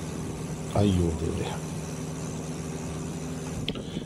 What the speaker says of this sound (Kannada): ಈ ಬೋಟ್ ಸೌಂಡ್ ಬೇರೆ ಜಾಸ್ತಿ